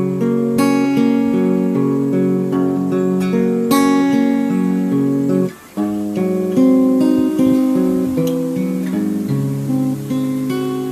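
Acoustic guitar plays part of a song, arpeggiated notes ringing in a steady flowing pattern, with one brief break midway, played alone and close.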